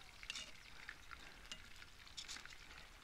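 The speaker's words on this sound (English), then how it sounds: "drop that in the hot oil, stir it up, and get all the pieces" Pieces of fish fillet sizzle and crackle steadily in hot oil while being stirred, with quiet scraping and pops throughout and no voices.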